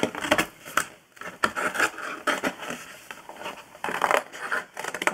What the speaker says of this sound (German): wir schneiden jetzt die Seite auch noch ab